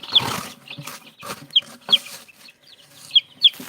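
Chickens on a farm give short, sharp clucks, about five brief calls spaced irregularly and heard close by, with quiet rustling and handling noises in between.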